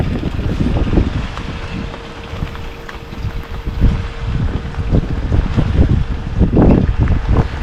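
Strong wind from Typhoon Pepito in November 2024 roars steadily and loudly, buffeting the microphone in rough, rushing gusts that rise and fall throughout.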